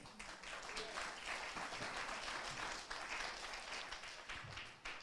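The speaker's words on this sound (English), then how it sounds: "We can salute that right about now just by the breaking up of the atmosphere by clapping." Audience applause at a community event on climate justice in Black and Brown communities. Many hands clap in a dense, steady stream throughout, fairly distant and soft, with faint voices mixed in.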